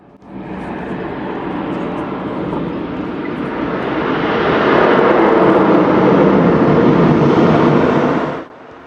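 A fixed-wing airplane lands at Lukla airport in Nepal, its engine roar loud and steady, then swelling as the aircraft brakes hard before cutting off abruptly near the end.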